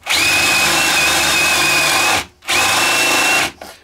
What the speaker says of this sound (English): I'm going to drill two little angled dowel holes, and I've got a 60mm dowel, 16mm spade bit